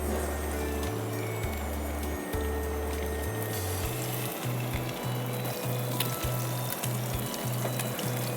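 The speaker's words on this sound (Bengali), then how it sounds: "আমরা মাছটা ফ্রাই করতে দিয়ে দিই।" Rohu fish deep-frying in hot oil, a soft, steady sizzle kept low under a droning background hum that steps between tones.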